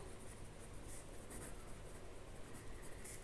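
A hand writes out a Class 9 maths solution on paper, a continuous scratchy rubbing of strokes with a few brighter bursts, close up over a steady hiss, with no talk.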